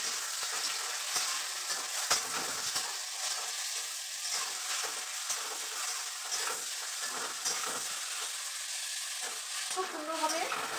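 Fried potatoes being stirred into a sizzling pan while making dal paneer at home, a steady broadband fry hiss with scattered soft scrapes and clinks of the spoon against the pan, fairly quiet and continuous with no talk.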